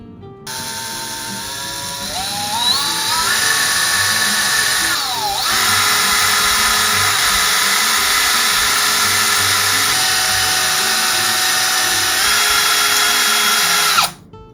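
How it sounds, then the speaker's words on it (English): A regular handheld power drill bores a hole in a plastic Pi webcam part, its motor whining steadily and loudly for about fourteen seconds, with pitch shifts as it bites and eases. "This part I'm gonna do with a regular drill because I don't have a bit small enough for the rotary tool"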